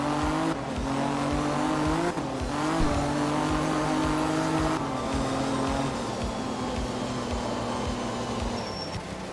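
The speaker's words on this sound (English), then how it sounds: "And then the turbocharger kicks in." A turbocharged Group 4 race car engine in a video game roars continuously at high revs, pitch rising and dropping through gear shifts, with a brief turbo whistle near the end.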